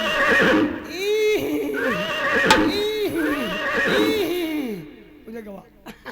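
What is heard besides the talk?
horses galloping and neighing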